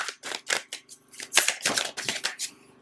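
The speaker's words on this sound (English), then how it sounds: "So I'm going to give these cards a good shuffle." Crisp riffling and slapping of a deck of tarot cards being shuffled close by, in quick repeated bursts with brief gaps.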